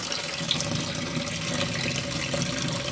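Water runs steadily in an aquaponics grow bed with a U-siphon, a continuous even wash of splashing and trickling flow at moderate distance with no pauses.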